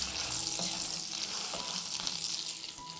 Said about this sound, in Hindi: इस तरह से नमक डालकर इसे हम थोड़ी देर सौटे करेंगे